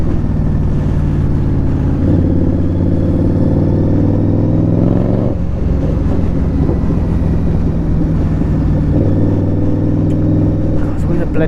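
Steady low engine drone from an Indian Scout Bobber motorcycle riding a UK country road near Stourhead, with a car travelling just ahead; wind and engine noise run continuously and loud throughout.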